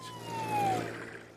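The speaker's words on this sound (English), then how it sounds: "An ambulance." An ambulance siren passing nearby, a single falling wail over low traffic rumble, briefly swelling in loudness and then fading.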